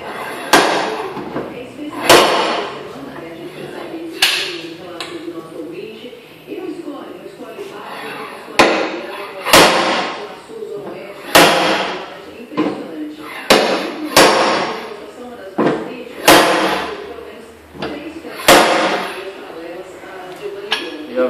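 A hammer knocks a large dent out of a Nissan's side panel with sharp, loud metallic strikes. The blows come in irregular clusters, and someone talks between them.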